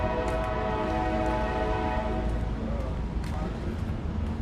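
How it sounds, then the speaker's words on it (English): A train passes through New Orleans in the early morning, a heavy continuous low rumble with a sustained horn-like tonal drone, loud and steady throughout. "That sound of the train is the sound that's waking New Orleans up here."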